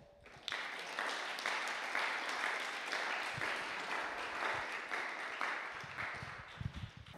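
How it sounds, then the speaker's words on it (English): Conference audience applauding a speaker's introduction, a dense steady round of clapping that starts abruptly and continues evenly for several seconds, with a few louder handling thumps near the end. "everybody, welcome, and give a round of applause for"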